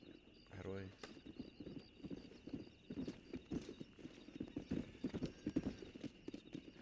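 Horse hooves clip-clop steadily in the Red Dead Redemption video game, a rhythmic trot of fairly close hoofbeats with a brief whinny near the start, while someone talks over them.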